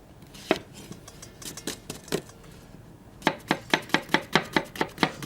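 Garlic and onion being chopped on a board in a kitchen, first a few uneven knife strikes, then a quick regular run of about ten sharp close chops, with no talking.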